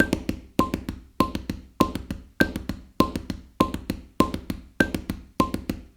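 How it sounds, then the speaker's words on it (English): A drum plays a short repeating figure of two quick sixteenth notes followed by an eighth note, with crisp, close strikes cycling steadily about ten times, unaccompanied by any voice. "Or two 16th notes and an 8th note would be this."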